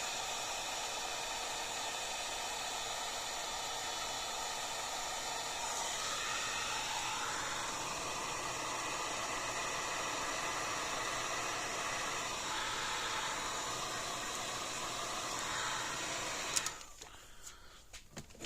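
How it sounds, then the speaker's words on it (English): A heat gun blows steadily at close range while a Tru-Test Ezi Weigh livestock scale is repaired, its broadband hiss holding for about seventeen seconds, shifting slightly in tone, before cutting off abruptly into quieter handling noise. "Get the heat gun out."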